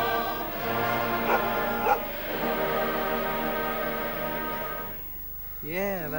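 A dog on a Blue Peter television show in 1984 barking and yelping along with music and singing, a few sharp barks near the start and a whining howl at the end.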